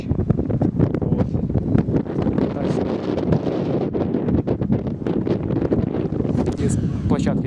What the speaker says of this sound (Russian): Ветер сильный поднялся.